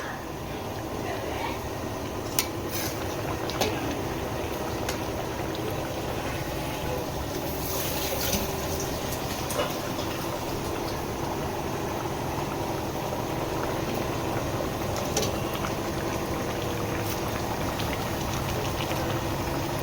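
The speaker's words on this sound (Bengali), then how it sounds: "মাছটা ফুটে গেছে" Fish curry boils in a pan in a home kitchen, a steady low bubbling hiss under the constant drone of a running washing machine, with a few faint clinks.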